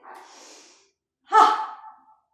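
During a Hatha yoga back-mobility exercise, a person draws a long, airy breath in, then, after a short pause, releases a sharp, forceful breath out that fades over about a second.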